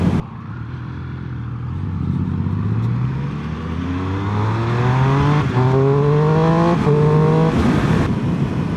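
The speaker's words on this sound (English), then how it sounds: "so 6th gear, let's do 40 mile an hour up to 70. It picks up really nice." Triumph Speed Triple 1200 RS motorcycle pulling in sixth gear from about 40 to 70 mph, its engine note rising steadily in pitch and growing louder, close and alone with no talking.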